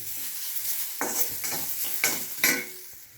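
Carrot pieces frying in ghee in a pan, with a steady sizzle and four stirring scrapes about half a second apart.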